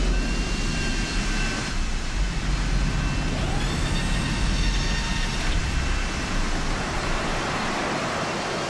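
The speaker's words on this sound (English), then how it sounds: "that sound from that helicopter was so damn loud" A helicopter in the video game Deus Ex: Human Revolution gives a loud, steady broadband roar that holds without a break for the whole stretch, with no talking.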